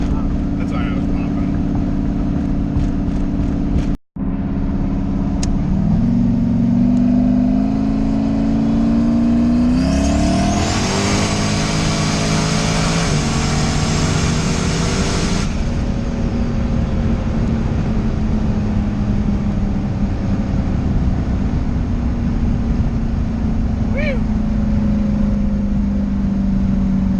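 A car engine runs and revs up and down, with a rising roar and some rough, uneven breakup while a voice talks over it.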